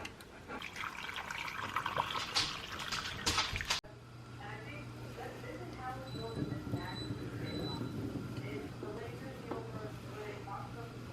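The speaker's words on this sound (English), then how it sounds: "I'm gonna transfer the cucumbers to the jar and we'll pour the liquid over the top." Pickling liquid poured over cucumbers in a jar, a close, continuous liquid splashing and trickling in the first few seconds, then cutting off to quieter kitchen room sound with a low hum.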